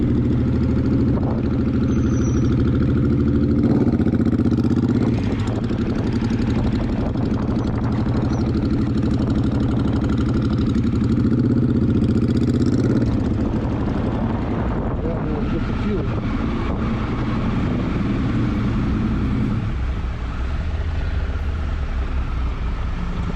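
A Triumph Tiger 1200 Desert Edition motorcycle engine idles on a group ride in cool weather, a loud, steady low rumble that continues throughout while riders talk nearby.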